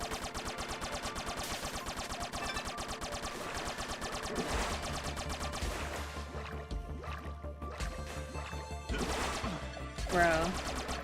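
Rapid, steady gunfire in The Mummy Demastered crackles continuously, a dense stream of repeating shots under music, while someone talks over it.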